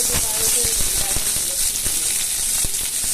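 Onion, garlic, ginger, green chilli and tomato sizzle in a hot pan as they are stirred for a spiced egg curry, giving a steady close hiss broken by scraping spoon taps, with a voice talking over it.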